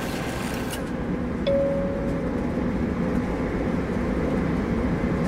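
Shuttle train in the sci-fi game SOMA moving along its track, a steady low rumble and rolling drone that swells slightly partway through, with a brief high tone and no speech.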